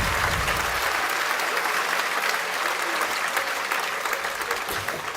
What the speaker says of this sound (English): See, as a joke, I wrote "hold for applause,"